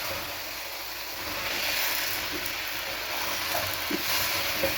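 Zucchini for vegetable soup is stirred in a pot, giving a continuous close sizzle and hiss with faint scraping knocks, rising a little midway, with no talk.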